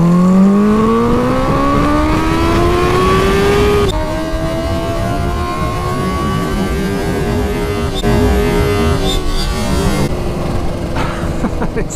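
A Kawasaki Ninja H2 motorcycle pulls hard in second gear on the road, its engine note climbing in rising sweeps and settling as it shifts, loud and close throughout with no talk.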